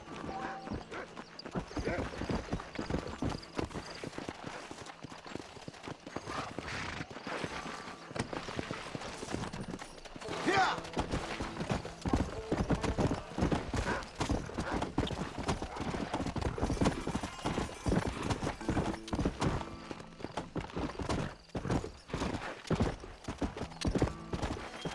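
Horse hooves clip-clopping in Red Dead Redemption, a steady trotting rhythm with occasional whinnies, running throughout over game ambience and music.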